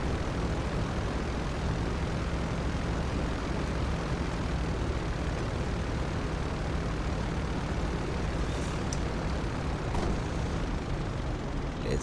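A Coast Guard cargo plane taxis to park on the apron, its engines producing a loud, continuous broadband roar and hum that holds steady throughout, with no voices.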